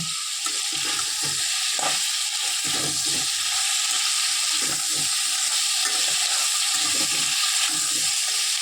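Flat beans and eggplant are stirred in a pan, a steady hiss of frying beneath soft, irregular scraping and clacking of a spoon against the pan, close and continuous, with nobody speaking.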